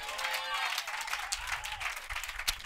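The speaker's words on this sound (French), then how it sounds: "Est-ce qu'on peut donner une acclamation au Seigneur?" A church congregation applauding and cheering, with a mix of clapping and raised crowd voices that rises and falls, with some tonal vocal sounds and thumps underneath.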